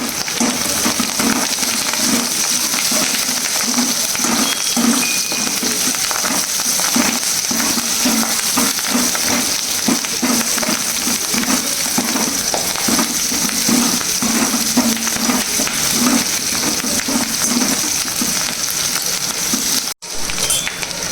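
Garlic cloves frying in hot oil for chicken manchurian, a dense, steady crackling sizzle close by that runs unbroken and fairly loud, with faint stirring scrapes and one brief dropout near the end.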